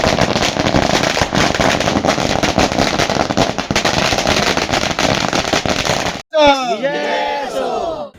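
Firecrackers burst in a loud, dense barrage with crowd noise during a welcome for election candidates, then the din stops abruptly and a short chirping, whistling tone follows near the end.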